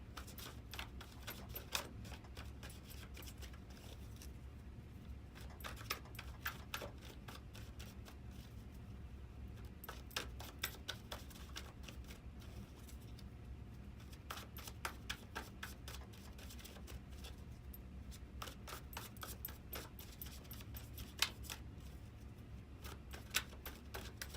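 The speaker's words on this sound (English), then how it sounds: "let's go on and shuffle these cards" Tarot cards are shuffled in quiet, repeated riffles and flicks, short bursts of crisp snapping spaced irregularly over a low background hum.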